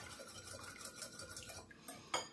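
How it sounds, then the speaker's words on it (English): A cracked egg is whisked in a bowl, a quick run of light, rhythmic clinks and taps of utensil against the bowl, close and fairly quiet, ending in a sharper knock. "I'm just going to crack an egg and mix that first. Give that a little bit of a whisk around."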